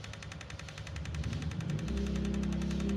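A Godox V850 III camera flash fires in burst mode, giving a rapid, steady train of sharp clicks over a low mechanical hum that grows louder partway through, with no voices.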